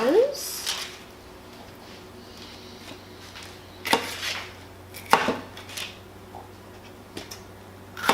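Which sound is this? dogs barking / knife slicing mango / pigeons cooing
knife slicing mango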